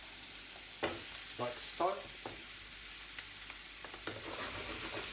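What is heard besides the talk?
celeriac dropped into pan with frying onions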